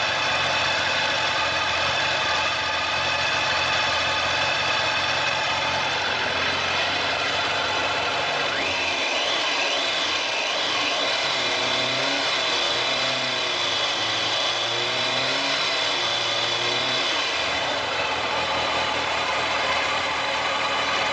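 A motorcycle engine runs steadily at about 4000 rpm during an oil pressure check, a loud, constant drone with a sustained hum and a slight rise and fall in pitch, with no voices.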